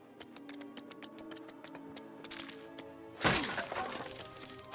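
Glass shatters loudly in the Lego Batman video game, a sudden bright crash that comes after a run of light tapping clicks and rings out briefly, with no talking.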